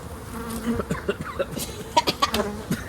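Honey bees at an open hive during beekeeping, an uneven close buzz with scattered sharp bursts and knocks, moderately loud.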